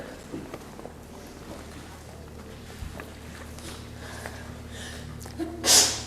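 A single sharp sneeze bursts out near the end, loud and close, after a stretch of quiet room tone in a chemistry lecture hall.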